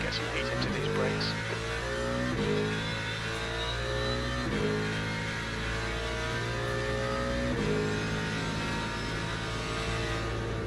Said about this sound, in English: I don't like the sound of this Mustang.